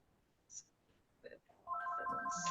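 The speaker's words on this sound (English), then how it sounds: "the phone may be ringing, but it's pretty quiet" A telephone rings in an office during a courtroom hearing, a steady electronic ringtone starting partway through and continuing loudly to the end, after a couple of faint brief sounds.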